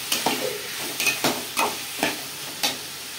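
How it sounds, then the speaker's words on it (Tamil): Onions and tomatoes sautéing in a pan for a pidikarunai kuzhambu, with a sizzle broken by sharp scraping strokes from stirring, close and without voices. "உடனே வந்து வதங்கிடும் வெங்காயம் தக்காளி"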